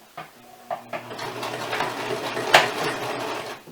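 A sewing machine stitches a seam on a cinch skirt of athletic or swim fabric, running in short bursts with clicks and a steady mechanical whir at close range.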